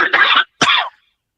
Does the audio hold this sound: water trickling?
no